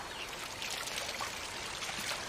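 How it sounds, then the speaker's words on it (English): Creek water flowing in a steady, soft hiss of trickling and splashing, even and unbroken throughout, with no voices. "Water."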